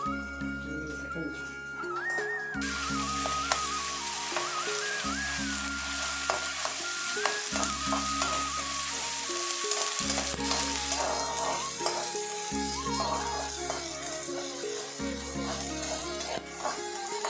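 Curry leaves hit hot oil for a fish roe fry and sizzle steadily, with stirring and a repeating low electronic thump running underneath.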